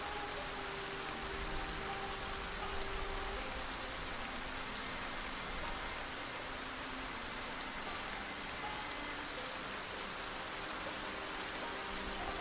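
Steady rain hisses evenly throughout in the video game Project Zomboid, a constant wash of drops with no other sounds standing out.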